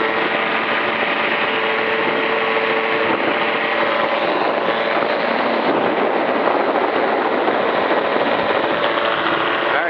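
A Magni M16 tandem gyroplane in flight gives a steady, loud droning roar of engine and rotor from inside the open cockpit, continuous and unbroken, with wind rush mixed in.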